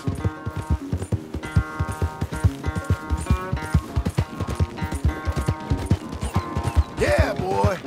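Horse hooves clip-clopping in Red Dead Redemption 2, a steady run of close, rhythmic thuds over a bed of game music.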